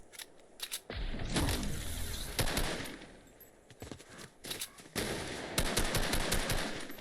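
Rifle fire in the video game Fortnite: rapid bursts of loud, crackling shots in uneven clusters, with brief pauses and a rising mechanical whine near the start, mixed with in-game ambience.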